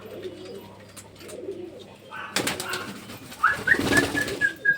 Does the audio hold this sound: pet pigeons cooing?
yes